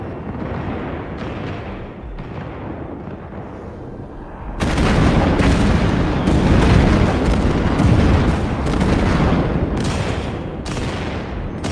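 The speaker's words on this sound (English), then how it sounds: "Yeah, taking Skyjacker fire." Skyjacker weapon fire in Vox Machinae, a mech combat game, opens as a distant rumbling barrage, then turns into a loud, close run of heavy booming blasts and shots that keeps pounding for several seconds.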